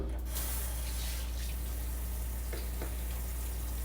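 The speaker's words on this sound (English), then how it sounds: "Wash some hands." A kitchen tap runs steadily while hands are washed under it, a continuous close hiss of water with slight splashing changes and no talk.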